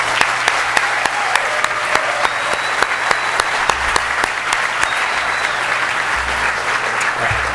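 At an award ceremony for a student vehicle competition, a crowd applauds a GM emissions testing night crew. The clapping is loud and sustained, with sharp individual claps standing out above the dense wash.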